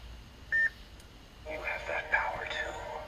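A lightsaber with the TFA Graflex sound font on a 2017 Graflex 2.0 build ignites: a brief electronic beep, then a crackling, sizzling burst that holds as an unstable hum.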